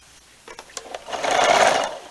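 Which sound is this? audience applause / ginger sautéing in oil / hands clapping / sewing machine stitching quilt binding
sewing machine stitching quilt binding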